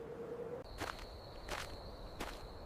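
Three slow, evenly spaced footsteps of a training officer crunch close by on a cold morning training ground, each a crisp scuffing thud, over a faint steady tone.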